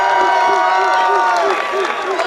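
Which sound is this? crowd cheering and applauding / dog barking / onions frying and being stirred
crowd cheering and applauding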